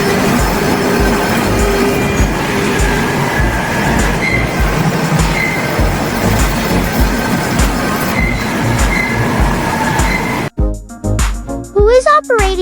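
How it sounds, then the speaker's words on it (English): Loud, steady rumble of a coal-fired steam locomotive rolling along the rails with rhythmic clatter, ending in a brief burst of sharper mechanical noise. "A female train engineer is shoveling coal into the firebox to power the steam locomotive."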